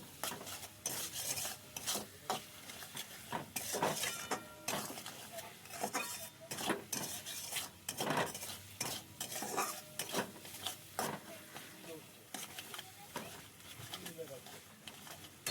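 Spicy crab and potato curry stirred in a pan with turmeric and chilli powder: steady scraping and rasping strokes of a spoon against the pan, rhythmic and close, with a light sizzle underneath.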